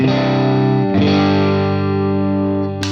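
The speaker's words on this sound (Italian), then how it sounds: "questo è un bel overdrive molto caldo" Warm overdriven electric guitar from a pedal captured on a Quad Cortex: a sustained distorted chord, then a second chord ringing on, loud and close with no talk.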